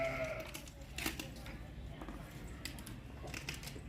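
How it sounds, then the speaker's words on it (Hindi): A Makhi Cheeni breed goat bleats briefly near the start and again around the middle, close and fairly loud, amid steady background noise and a person talking at a goat market. "बकरी बहुत खूबसूरत नस्ल वाली मक्खी चीनी बकरी है।"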